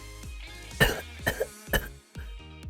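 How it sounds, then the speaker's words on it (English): Three or four sharp coughs in a row, fairly close and dry, separated by short pauses with some throat rasp between them, with no talking. "He coughed."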